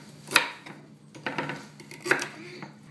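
A knife cuts the ends off celery stalks on a cutting board, making a few distinct close chops with short, crisp knocks and scrapes between them.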